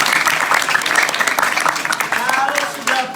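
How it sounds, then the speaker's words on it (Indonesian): Applause from an audience at an Islamic school gathering in Indonesia, a sustained burst of clapping that fills the whole moment, with voices mixed in underneath. "tepuk tangan dulu semuanya"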